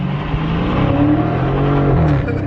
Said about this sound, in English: I know y'all can hear that exhaust.